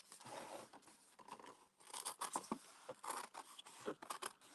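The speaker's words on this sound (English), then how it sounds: "So I've reverted to these really crappy scissors." Cheap, poor-quality scissors cut through paper close by in a run of crisp snips and crunchy scraping strokes with short pauses between them. No one speaks.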